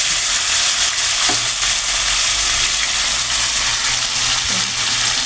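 Loud, steady sizzling and frying as a mixture is poured into hot oil in a home kitchen pan, with a continuous crackling hiss and a few stirring sounds, close and without talk.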